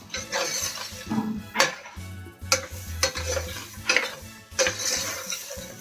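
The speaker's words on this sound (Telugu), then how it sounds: "ఇందులో బాగా కలుపుకోవాలి" A spoon stirs corn paneer pulao in a pot, making repeated close scrapes and knocks against the metal in an uneven rhythm over a faint sizzle.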